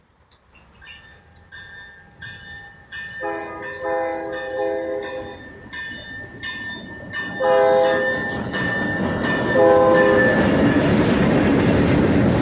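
A CN shifter engine's horn blasts repeatedly in long, loud chords over the rumble of a passing train on the mainline, with wheels clattering and screeching beneath.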